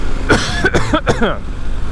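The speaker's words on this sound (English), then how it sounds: "Unfortunately I'm going to have to cough now." A person coughs a few times in a quick burst, close to the microphone, over a low engine rumble from a KTM 1090R adventure motorcycle on a green lane.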